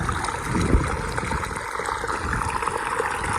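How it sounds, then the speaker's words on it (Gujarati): Irrigation water flows through a channel on a farm, a steady broadband rushing and trickling wash that holds a constant level throughout, with no voices. "અત્યારે પાણી ચાલુ છે."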